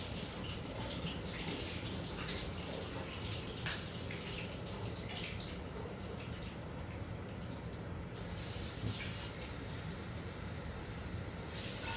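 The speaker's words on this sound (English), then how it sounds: "I just wash them out with a little bit of water." Water splashing and spraying into empty Monster energy drink cans as they are rinsed out, a steady hissing gush that dips briefly midway, heard alone without speech.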